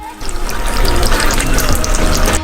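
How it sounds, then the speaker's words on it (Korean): Water is poured steadily and loudly into a pot of sugar for syrup, a close, continuous splashing and gurgling stream with no talk. "물 100ml를 부어요"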